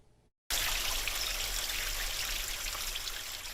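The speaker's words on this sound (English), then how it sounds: "The water here in this Letcher County community flows to a place that was spared when the water wasn't so tranquil." A creek in a Letcher County, Kentucky community flows steadily and close by, a continuous gentle rushing and trickling of water with no voices, starting after a brief quiet moment.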